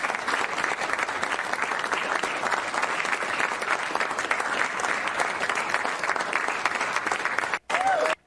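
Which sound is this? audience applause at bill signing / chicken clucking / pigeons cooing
audience applause at bill signing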